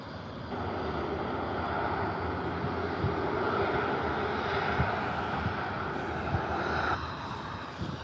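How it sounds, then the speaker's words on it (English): A cargo jet at Calgary airport runs its engines in a steady, loud roar that holds evenly for several seconds with no voices. "And then over here is a cargo jet."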